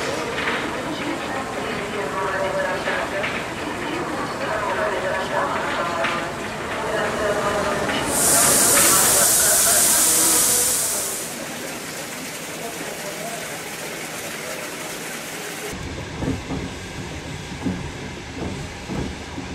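Trans-Siberian train halted at Novosibirsk station at night, with a steady rumbling platform ambience, a loud hiss or whistle burst midway and a sharp change in the background near the end.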